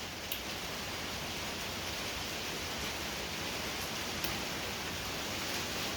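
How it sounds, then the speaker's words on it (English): Heavy rain pours steadily outside, a dense, constant hiss with no breaks or variation for the whole stretch, close and fairly loud, with no voices. "it is coming down outside. We need the rain bad. And it has been raining like crazy today."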